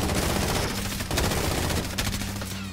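Rapid automatic gunfire in the Warzone battle royale game, an M4A1 or MK2 Carbine class loadout, a dense continuous burst of shots with brief gaps, loud and close throughout.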